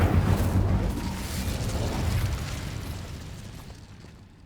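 An Incendio fire spell cast in Hogwarts Legacy bursts out as a loud whooshing boom that rolls and fades over a few seconds, with no voices.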